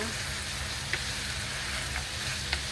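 Kangkong (water spinach) frying in a pan, a steady, dense sizzle that carries through the whole stretch, with a few faint stirring clinks rising briefly above it.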